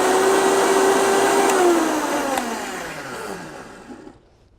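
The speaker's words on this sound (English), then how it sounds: "I'm just going to add a little bit more water to this blender and give it a little spin." A blender with a little water added to rinse out puréed cauliflower whirs loudly at a steady high pitch during a cooking class, then its motor winds down and fades to silence.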